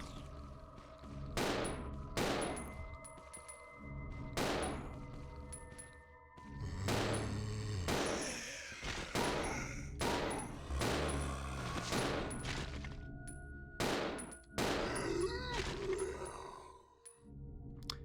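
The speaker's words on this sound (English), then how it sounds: "So shooting them in the head with the pistol doesn't really seem to do anything" Pistol shots fired at zombies' heads in Resident Evil 0, a dozen or so sharp cracks in an uneven rhythm, echoing amid low thuds and eerie groaning, with no voices.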